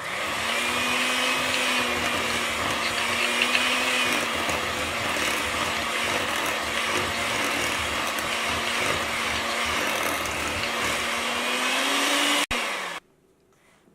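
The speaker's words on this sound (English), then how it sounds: "we're just going to blend this until it's mixed" An electric blender beats vanilla into snowball cookie dough, giving a loud, steady motor whine that holds evenly for about twelve seconds, rises slightly in pitch, then cuts off abruptly into near silence.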